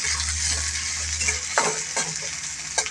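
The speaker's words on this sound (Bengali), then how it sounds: "পেঁয়াজটা আমি ভাজতে দিয়ে দিলাম।" Chopped raw onion sizzles in a hot pan for a prawn bharta, a steady bright hiss of frying. A low hum fades out partway, and a few sharp utensil clinks and stirring scrapes punctuate the second half.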